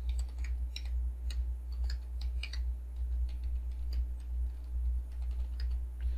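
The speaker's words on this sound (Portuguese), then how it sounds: "Vamos digitar aqui os valores" Values being entered on a computer keyboard while running a C program, a quick irregular run of light key clicks over a low steady hum, with no talk.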